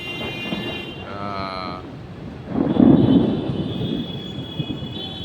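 A low rumble of thunder from a lightning storm rolls in partway through and slowly fades, over steady outdoor background noise and some distant tonal hum.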